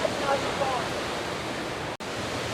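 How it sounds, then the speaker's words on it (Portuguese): The Caracol Falls waterfall in Canela, Brazil, roars as a steady broadband rush heard close up from its base, with a brief dropout near the end. "E nós estamos na base da cachoeira."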